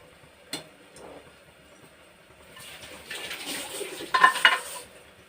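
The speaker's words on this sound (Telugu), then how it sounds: "చూడండి, బీరకాయ ముక్కలు వేసేస్తున్నాను." Chopped ridge gourd pieces tumble into a cooking pot of moong dal, a brief knock followed by a swelling, rattling clatter and hiss that peaks near the end before fading; no one speaks.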